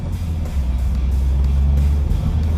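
Nissan Qashqai J10 with a 1.6 petrol engine on a test drive, giving a steady low engine drone and road rumble from inside the cabin, continuous and fairly loud throughout.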